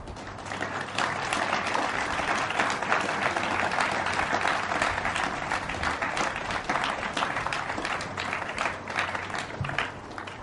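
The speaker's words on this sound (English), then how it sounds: "give them all a round of applause" A college commencement crowd applauds, dense steady clapping from a large audience, moderately loud and continuous throughout with no voices on top.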